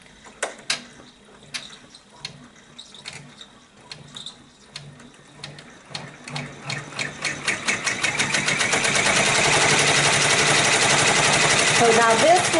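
A Babylock 10-needle embroidery machine stitching a tack-down, starting with scattered clicks and taps and then building into a steady, loud, rapid mechanical chatter that runs to the end.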